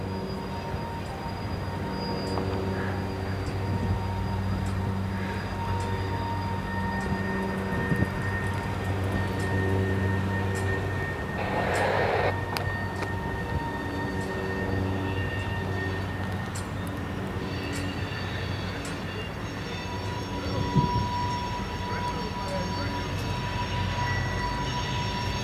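A Norfolk Southern train rolls steadily along a spur line, with a continuous low rumble of cars and wheels and a brief metallic squeal midway, no voices.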